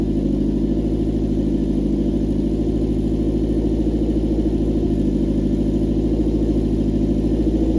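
A cold Ford Cosworth engine running at a steady idle, a loud continuous low drone with an even mechanical pulse and no change in revs, close by and without speech.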